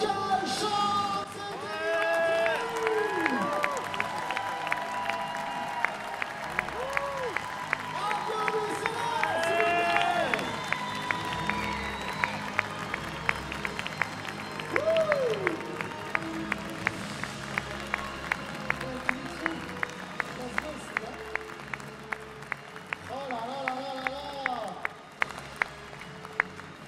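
A crowd at a Toulouse convention actor panel applauds and cheers as a guest comes on stage. Sustained clapping carries scattered shouts and whoops and ends in a few final claps.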